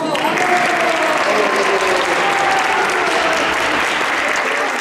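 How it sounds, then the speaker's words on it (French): A crowd at a baptism in Agde Cathedral claps steadily and loudly, a dense sustained wash of applause filling the echoing church. "Applaudissez le Seigneur."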